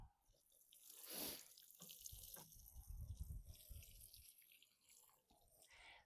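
Water splashes and trickles onto freshly sown sunflower seeds covered with compost, a soft close pouring with a brief brighter gush early on, then irregular low patters and drips, faint and alone.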